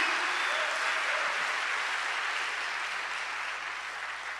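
Steady applause from a church congregation, a dense, even wash of many hands clapping together that holds for several seconds and fades slightly toward the end, with no voices over it.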